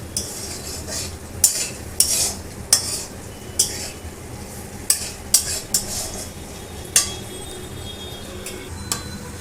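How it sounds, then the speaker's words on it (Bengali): Onion and chilli stir-fried with a pinch of salt in a wok for homemade chowmein: a steady sizzle broken by a dozen sharp metal clinks and scrapes from the stirring spatula, close and loud, with no talk. "কড়াইয়ের মধ্যে পেঁয়াজ আর লঙ্কাটা ভালো করে ভেজে নেব"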